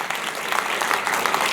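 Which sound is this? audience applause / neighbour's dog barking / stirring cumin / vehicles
audience applause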